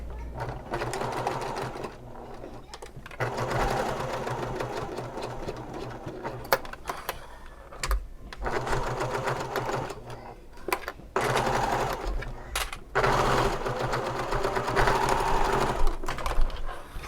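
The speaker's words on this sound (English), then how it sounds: "I am going to sew these notches, and these are sewn at a 1/2 inch seam allowance" A sewing machine runs in steady bursts, stitching the notches of a fabric bag at a half-inch seam allowance, with short pauses between runs; close and fairly loud, with no talking.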